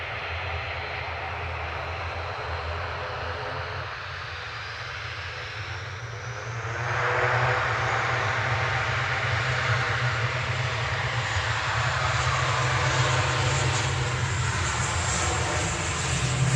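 An ATR turboprop airliner at Manchester Airport sends out a steady, droning engine roar that swells noticeably partway through and stays loud to the end.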